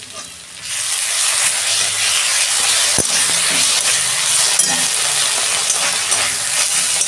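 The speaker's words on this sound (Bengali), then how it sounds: "পেঁয়াজটা ভাজা হয়ে গেছে, আমি আদা রসুন পেস্ট দিয়ে দিচ্ছি।" Ginger garlic paste and onions fry in a pan with a steady, loud broadband sizzle that swells after the first half second, punctuated by a sharp clack near the middle and light stirring scrapes throughout.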